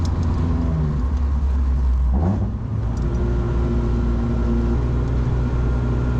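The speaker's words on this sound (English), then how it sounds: "You downshift the second, Yep. get the RPMs up." A 2007 Chevy Cobalt SS engine drones steadily, then revs briefly after a downshift, a close, moderately loud rumble with no voices.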